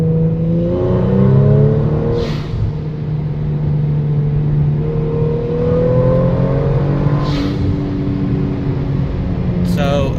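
Kia Stinger engine fitted with a Go Fast Bits Deceptor Pro blow-off valve, Canon intakes, SSR mid-pipe and ARC catback, heard from inside while driving, steady rising engine drone with two short airy valve whooshes between gear changes.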